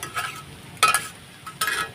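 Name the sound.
potatoes frying and stirred in a wok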